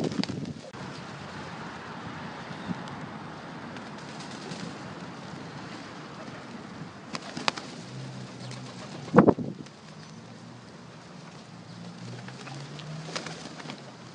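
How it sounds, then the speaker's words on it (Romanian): Pigeons being fed bread on a Sunday in Avram Iancu, soft continuous cooing with a brief burst of wing flapping midway, outdoors with light wind and no talk. "De ce v-ați hotărât să hrăniți porumbei într-o zi de duminică?"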